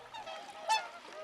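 Birds calling near people who are feeding them, a short burst of goose-like honks, fairly faint and slightly distant, with one brief louder call standing out in the middle.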